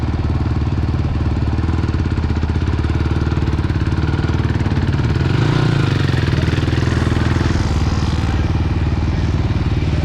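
A Suzuki LTR sport quad runs at a loud, steady, close-up engine drone with a fast, buzzing single-cylinder pulse. The revs swell briefly midway before settling back.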